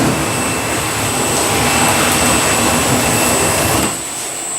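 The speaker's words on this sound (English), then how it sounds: "And we're now going to run it through the machine." Cushion Pack CP316 S2i+ cardboard shredder running as cardboard is fed through, a loud, steady broadband mechanical roar with a constant high whine that drops in level near the end.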